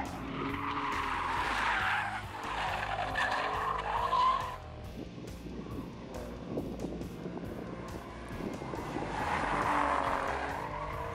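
Tires skid and squeal loudly as an Alfa Romeo Giulia Quadrifoglio, with a 2.9-litre engine derived from a Ferrari V8, laps a track hard. Engine noise swells near and fades through a quieter middle, then surges again toward the end.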